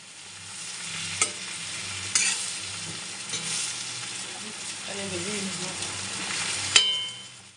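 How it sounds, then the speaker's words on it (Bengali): Whole prawns sizzle steadily in hot oil, with occasional sharp clinks of a utensil against the pan and a soft hiss throughout. "চিংড়ি মাছটা ভাজা হোক।"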